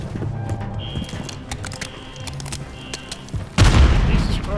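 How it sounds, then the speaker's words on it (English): A grenade goes off in Call of Duty: Modern Warfare III, a heavy boom landing near the end after scattered clicks and game noise, loud and close. "these things take forever to explode"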